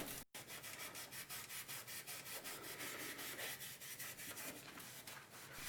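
Magic eraser scrubbing grime off a Power Macintosh 7500 computer case, a steady rhythmic back-and-forth rubbing that continues without a break, close and fairly quiet.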